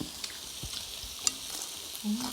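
Pork sizzles on a hot Thai grill pan, a soft steady frying hiss close by with a few light clicks and scrapes of utensils and no speech.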